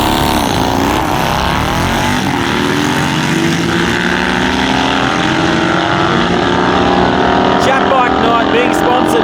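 Drag strip run featuring a Honda VTR 1000 Firestorm racing at a street bike night, with loud continuous engine roar sweeping in pitch as the motorcycles accelerate, wind buffeting the microphone and faint voices mixed in.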